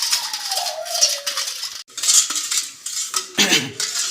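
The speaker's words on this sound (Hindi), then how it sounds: "ये शक्कर अच्छी तरह से पिघलने तक हम इसे हिलाएंगे।" A spoon scrapes and clinks around the inside of a metal pot, stirring sugar as it melts, with gritty scraping and occasional knocks.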